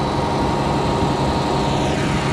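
A farm tractor engine pulls a disk in second gear, a loud, steady, continuous drone with no talk over it.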